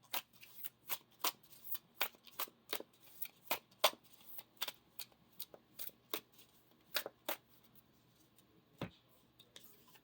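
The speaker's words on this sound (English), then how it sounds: "Now we're going to play that and draw 3 more cards." Cards for a Lord of the Rings living card game are drawn and handled, giving rapid crisp snaps and flicks of card stock close by, irregular and quiet over a faint background hum.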